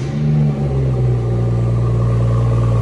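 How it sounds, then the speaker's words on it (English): A BMW 440i M Sport six-cylinder engine catches and revs up loudly nearby, then settles into a steady, smooth idle rumble. "Really nice sounding six-cylinder engine."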